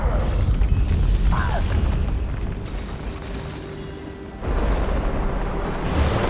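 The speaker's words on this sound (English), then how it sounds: "That bloodstone explosion seemed to trigger some sort of magical echo." A bloodstone explosion and tremor in Guild Wars 2: a loud, sustained rumbling boom with mechanical grinding that dips briefly, then surges back in a renewed wave of rumble.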